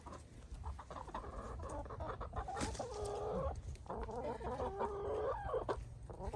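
Chickens cluck and squawk in a steady, busy chorus close by, with a few louder calls and a rooster-like crow standing out over the noise.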